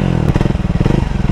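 A motorcycle engine idles near a showroom with a close, loud, rapid pulsing thump that repeats steadily throughout, with no talking.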